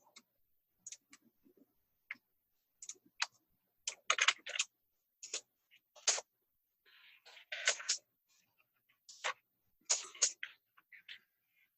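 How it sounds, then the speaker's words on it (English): Close-up keyboard typing in irregular bursts of clicky keystrokes, some rapid runs and a few isolated taps, with quiet gaps between. "sorry about my keyboard if it's too loud."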